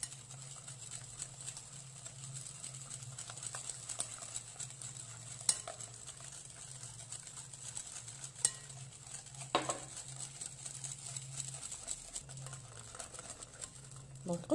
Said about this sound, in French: Je l'ajoute filamment en continuant de mélanger.